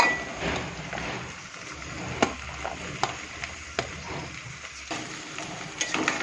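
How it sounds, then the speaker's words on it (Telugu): Cut okra pieces frying in oil for a curry, a low steady sizzle with scattered sharp clinks and taps of a utensil against the pan, close and moderately loud, with no talk. "ఇప్పుడు ఇందులో కట్ చేసి పెట్టుకుని బెండకాయ ముక్కలు వేస్తున్నాను"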